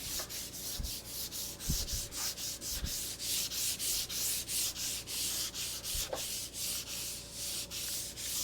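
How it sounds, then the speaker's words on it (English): Sanding an old wooden base with router-rounded edges, a steady rhythmic rubbing of repeated strokes, close and moderately loud, with a few small knocks and no talking. "I've rounded over the edges here with my router and cleaned that up."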